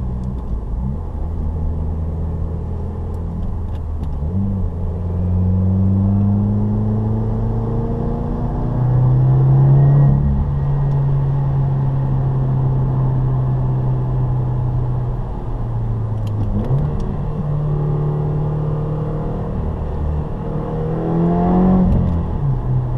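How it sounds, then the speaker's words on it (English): Inside a 2015 Subaru WRX with a catback exhaust, a loud droning exhaust rumbles steadily, rising and falling as the engine revs through gear changes, with no talking. "I do have a nameless catback exhaust, so it's probably a lot louder than most cars"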